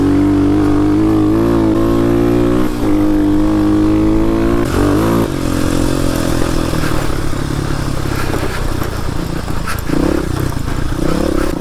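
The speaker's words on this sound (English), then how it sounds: "There's something to be said about when your bike's running better. It's running pretty well." Kawasaki KLX250S dual-sport motorcycle engine running on a rocky trail in Moab, Utah, a loud steady drone that rises and falls in pitch with throttle changes, close to the microphone throughout.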